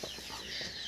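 A hen beside newly hatched ducklings gives a short run of soft, close clucks, a few quick pulses within a second.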